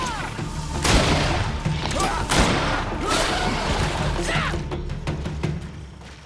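Musket-style gunfire in a GreedFall video game battle: several sharp, loud shots and crashing impacts ring out over a busy, noisy battle background.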